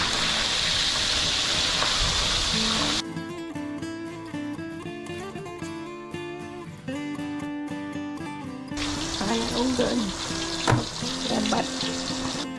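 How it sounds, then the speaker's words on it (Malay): Catfish fry in hot oil in a wok, giving a dense steady sizzle that is broken by a stretch of music in the middle and then returns, busy and crackling, near and moderately loud. "Dah boleh angkat ikan yang digoreng tadi."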